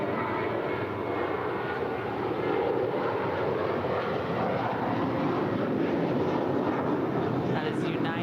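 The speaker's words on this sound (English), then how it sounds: "That is United 2018 off to Tampa, Florida. 21-year-old A320." A 21-year-old United A320 airliner takes off from LAX bound for Tampa, its engines a loud, continuous, broad roar that holds steady throughout.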